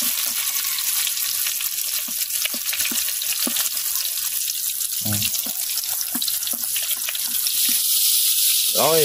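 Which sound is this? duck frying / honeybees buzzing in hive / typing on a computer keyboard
duck frying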